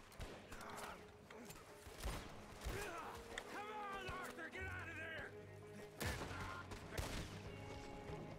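Repeated gunfire in Red Dead Redemption 2 during a stagecoach robbery, sharp bursts and shots scattered through the scene alongside hoofbeats and game noise, with someone talking over the action.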